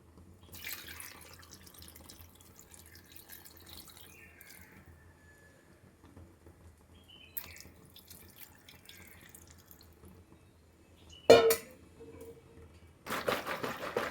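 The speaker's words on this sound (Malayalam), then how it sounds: "വെള്ളം ഒഴിക്കാം" A mostly quiet stretch with faint clinks, then a short splash and a brief burst of water poured into boiling tea on the stove near the end.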